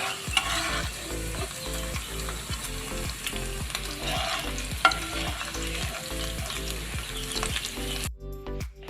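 Onion sautéing in oil in a pan for a mushroom gravy, a steady close sizzle with repeated stirring scrapes throughout, cutting off abruptly near the end.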